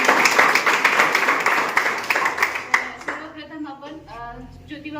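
Audience applause at a small felicitation ceremony for students selected as electrical assistants, dense clapping for about three seconds before fading as a voice begins speaking.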